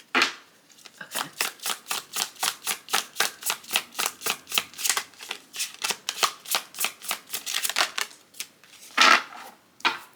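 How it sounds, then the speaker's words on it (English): A rapid, steady series of crisp riffling snaps as a very small deck of tarot cards is shuffled repeatedly, close up, ending with a brief tap. "This is a very small deck. It's really hard to shuffle."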